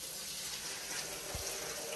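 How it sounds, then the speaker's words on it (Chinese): Tap water runs steadily into a kitchen sink as ingredients for a homemade drink are rinsed in clean water, a continuous broadband rush with no voices. "用清水洗。"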